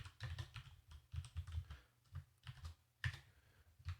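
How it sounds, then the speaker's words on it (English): Keys clatter on a computer keyboard in quick, uneven bursts as someone types code, with short pauses between runs of keystrokes. Quiet and close, with no voices. "I'm just going to start typing"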